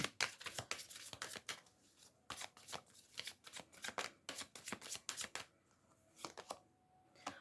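A Cigano Lenormand fortune-telling deck is shuffled by hand nearby, with rapid, crisp riffling snaps and card slaps in quick irregular bursts, heard alone and fairly soft.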